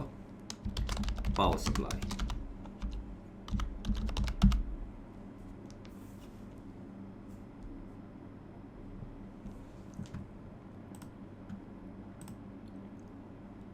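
Quick bursts of typing on a computer keyboard, close and crisp, clustered in the first few seconds, then sparse isolated keystrokes over a quiet room hum while someone speaks briefly.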